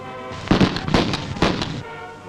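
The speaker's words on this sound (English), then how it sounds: "the sportsmen of the island loose off a salvo" Island sportsmen fire a gun salvo outside a churchyard after a wedding, a quick ragged volley of several loud cracking shots over about a second and a half, close and sharp with brief echoes.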